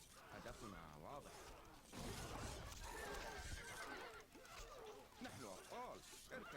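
Horse neighs and whinnies in the Stronghold Crusader strategy game, rising over a busy mix of game voices and battle noise, with a louder stretch midway; people speak throughout.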